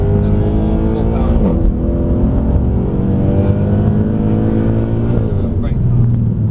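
A Black Series car engine pulls hard at full power on a race track, a steady, loud, dense drone with a slight upward rise in pitch, continuous and close.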